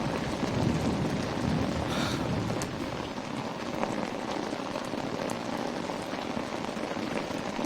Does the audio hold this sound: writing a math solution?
no